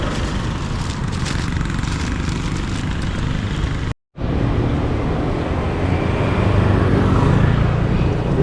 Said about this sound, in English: There's traffic coming.